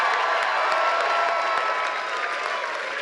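Dense, continuous audience applause with some cheering, a thick steady roar of many hands clapping that holds at an even level throughout.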